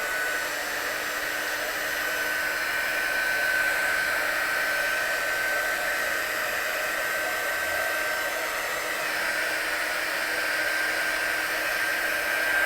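A heat gun blows steadily over watercolour on a stamped card, a close, continuous whirring roar with a thin high whine that holds unbroken for several seconds.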